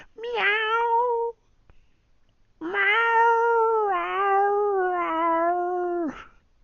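A person imitates a cat meowing: a short meow, a pause, then a long drawn-out wavering meow, close and clear.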